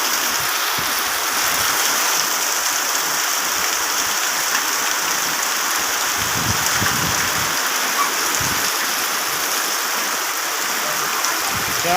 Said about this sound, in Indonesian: Lebat hujan.